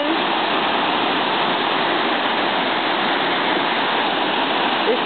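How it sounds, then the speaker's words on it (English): Rushing floodwater from a storm-swollen Rocky Creek in Columbia, South Carolina, roars loud and constant near a railroad trestle embankment, a dense unbroken torrent with no voices. "The water has risen."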